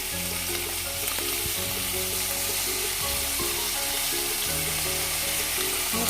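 Bacon frying in oil for carbonara sauce gives a steady, close sizzle with soft crackles and occasional stirring, continuous and alone throughout.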